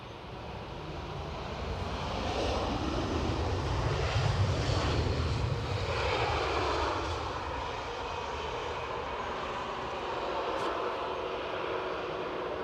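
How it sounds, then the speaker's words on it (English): An EasyJet Airbus A320 arriving at Edinburgh Airport, its engines a steady broad roar that swells to a peak and then eases slightly, heard from a distance outdoors with no talking. "Yes, EasyJet arriving from Birmingham, Airbus A320."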